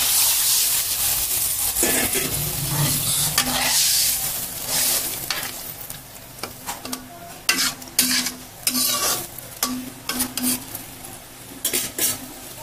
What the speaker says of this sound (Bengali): কষানো হয়ে গেল, ঝোল দিলাম।